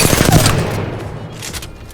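A rapid burst of gunfire from Apex Legends rattles out loud and close in the first half, then fades into quieter scattered shots and game effects.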